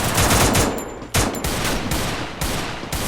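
Dense, continuous automatic gunfire from the Free Fire video game, with rapid overlapping bursts close up and loud, and a few brief gaps between volleys.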